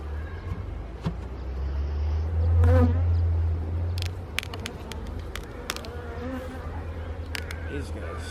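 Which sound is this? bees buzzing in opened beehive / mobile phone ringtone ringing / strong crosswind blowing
bees buzzing in opened beehive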